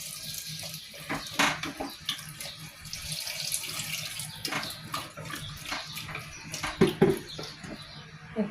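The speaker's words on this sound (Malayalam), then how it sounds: "നമുക്ക് ചൂട് വെള്ളം ഒഴിക്കാം ഇതിനകത്തോട്ട്" Hot water poured into a pot of vegetable curry with masala, a continuous splashing, gurgling stream with bubbling and small clinks, close and fairly steady, no one talking.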